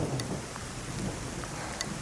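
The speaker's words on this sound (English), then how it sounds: "bring the rain" Steady rain with a distant rumble of thunder during a dark storm, a continuous wash of noise with faint rolling low booms beneath it.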